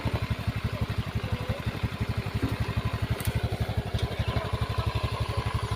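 A motorcycle engine runs close by in a spot crowded with parked motorbikes, its fast, even exhaust pulses thumping in a steady idling rhythm throughout.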